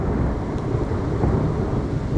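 Thunder rolls from a violent thunderstorm passing over Liège, Belgium, a dense, steady low rumble mixed with heavy rain noise that fills the scene without any distinct crack.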